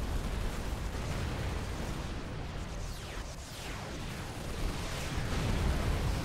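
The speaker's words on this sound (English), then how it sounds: "Auto cannons and 50 millimeters. Absolutely tearing these Harvogs to tiny, tiny pieces." Supreme Commander 2 4v4 air battle: auto cannons and 50 mm guns pound away while bombers and AC-1000 gunships strike, making a dense, continuous roar of overlapping explosions and gunfire that never lets up.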